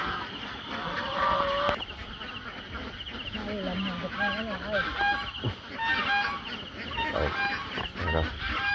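A large flock of some 4,000 ducks on a duck farm quacks and honks continuously nearby, overlapping calls forming a busy chorus while a person talks over the noise.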